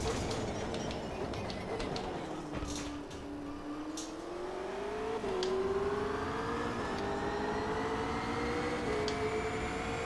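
A BMW GT3 race car engine in the sim racing game Automobilista 2 drones steadily, its pitch sagging then climbing smoothly through the gears, moderately loud with faint clicks and bumps scattered over it.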